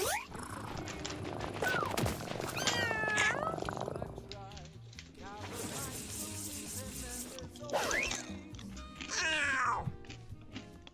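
Kittens meow and purr in the cat-breeding game Mewgenics, with repeated mewing calls rising over a busy layer of game sounds and music, loud and close across the clip.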